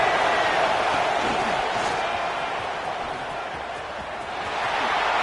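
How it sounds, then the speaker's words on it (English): A football stadium crowd roars near the goal line during a late-game defensive stand, a broad, sustained wall of cheering and noise that stays loud throughout with no pauses. "the crowd really making some noise now, trying to help out this defense to get this stop near the goal line"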